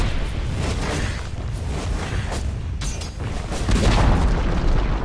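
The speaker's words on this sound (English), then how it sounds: "Dire's top tower has fallen." A Dota 2 tower collapsing under attack: deep, rumbling booms and crashes over steady battle noise, swelling louder near the end.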